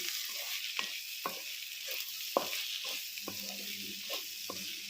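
Chili curry with red chili powder and masala frying in a nonstick pan gives a steady, close hiss of sizzling, broken by several sharp spoon knocks and scrapes as it is stirred.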